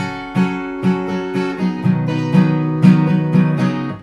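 Guitar strumming the two-bar rhythm pattern of a song, rhythmic chord strokes about every half second, close and full, with accented downstrokes and no voices.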